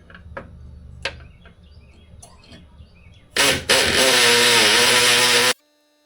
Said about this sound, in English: The kid's on the four-wheeler right now.